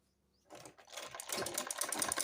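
Sewing machine stitching the side seams of skirt fabric, starting after a brief quiet moment and running as a steady, dense mechanical whir that grows louder and continues to the end.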